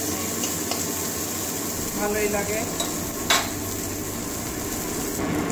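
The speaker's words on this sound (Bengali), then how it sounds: "পেঁয়াজটা ভাজা হয়ে গেছে" Onions sizzle in oil in a pan for a cauliflower, potato and mung dal dish, with a steady close frying hiss broken by a few scrapes and clinks of stirring, and someone speaks briefly over it.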